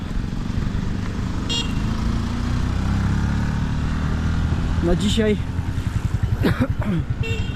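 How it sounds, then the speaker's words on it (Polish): Motorcycle engines rumble past on a street in Tanzania, with a horn toot and a rising whine as a motorcycle passes; a voice speaks briefly. "Jeszcze nie ma hałasu, ale już motory jeżdżą."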